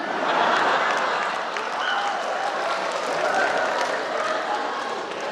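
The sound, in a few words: audience applause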